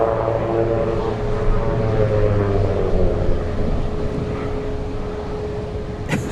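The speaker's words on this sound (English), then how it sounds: "Big 747 coming in." Boeing 747 arriving from Seoul at Anchorage in gusty winds, a loud nearby jet roar with a steady engine whine and low droning tones that slowly shift as it passes, ending with a brief burst of wind noise.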